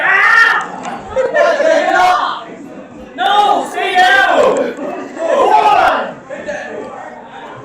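A crowd at a live wrestling Halloween event shouts loudly in surging waves, with voices calling out over the arena noise, rising and falling between bursts.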